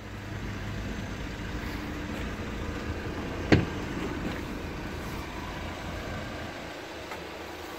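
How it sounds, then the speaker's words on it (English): A Vauxhall Vivaro Sportive LWB van with a CDTI diesel engine idles in a steady low rumble, moderately quiet and continuous, with one sharp click partway through. "CDTI engine."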